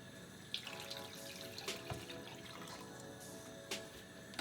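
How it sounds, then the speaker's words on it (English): Water poured from a cup into a blender holding pureed chilies for birria, a soft continuous trickle with a few brief drips and clinks, fairly quiet and close, with no talk. "And I'm also gonna add 1 cup of water to this."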